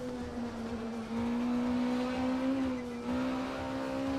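Caterham race car engine in a VR sim racing game, a steady tonal drone that shifts pitch as it changes gears, moderately loud with no voices.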